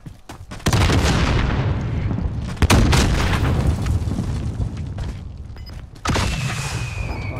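Gunfire and booms in the video game Call of Duty: Warzone, with a sustained roar of shots and blasts, a sharp crack midway, then a fresh loud burst near the end.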